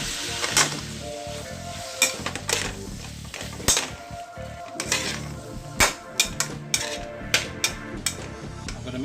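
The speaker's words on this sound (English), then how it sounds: "I'm going to mix all this well and let it cook. Let it saute for about a minute" Chilli chicken sautés in a hot pan with oyster sauce, a steady loud sizzle broken by repeated sharp clinks and scrapes of a utensil stirring against the pan.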